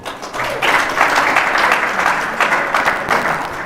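Audience applause breaks out after a political talk on fixing Nigeria's electricity supply, a steady dense clapping that swells and holds across the whole stretch without speech.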